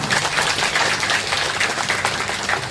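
Audience clapping to welcome a guest at a Hindu religious gathering at a Shiva temple in Gangutia tea garden, a steady dense patter of many hands sustained throughout without pause.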